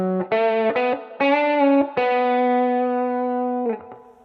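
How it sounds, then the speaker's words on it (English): Electric guitar lick with effects-driven distortion, played as a short phrase of separate picked notes with string bends, sustained tones ringing out clearly and alone, fairly loud, no slides. "if we were just to play the lick as is, it would sound something like this"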